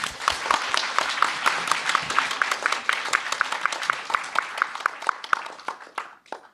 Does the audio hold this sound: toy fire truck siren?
no